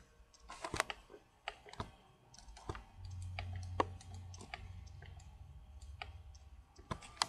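A computer mouse clicking repeatedly at close range during 3D modelling work, sharp isolated clicks at irregular intervals over a faint background hum.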